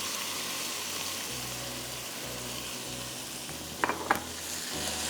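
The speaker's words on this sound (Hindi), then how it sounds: "चलें कीमा डाल देती हूँ पहले, आधा किलो।" Minced beef fries in a pan with a steady, close sizzle throughout, and a couple of brief knocks or stirring scrapes near the end.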